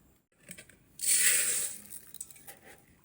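Dry rice grains poured into a glass for a pressure-cooker egg biryani, a close, loud rushing patter lasting about a second, with faint clinks and rustles before and after.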